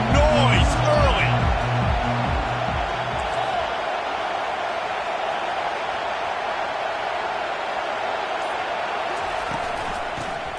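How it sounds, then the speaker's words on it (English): Stadium crowd roars steadily at a college football game between Miami and Clemson, a dense wash of cheering under a brief burst of thumping music at the start. "This crowd bringing the energy and noise early."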